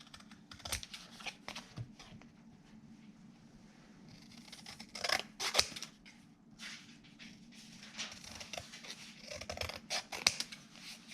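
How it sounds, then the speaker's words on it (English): Scissors cut out a paper tag: close, quiet snips in an irregular series, some brief and some in quick runs, with no talk. "I'll just cut this out."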